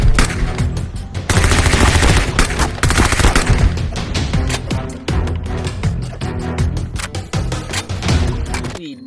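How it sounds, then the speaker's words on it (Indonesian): Rapid bursts of gunfire, machine-gun-like volleys and single shots in quick succession, loud and sustained with brief gaps throughout. "di sini ada tembak-tembakan."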